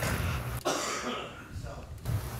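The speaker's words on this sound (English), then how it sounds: "I had to cough again." A man coughs and clears his throat close to the microphone, a few rough bursts over a steady background hiss.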